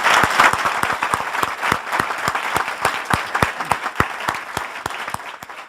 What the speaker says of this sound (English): I want to give them all a very warm round of applause.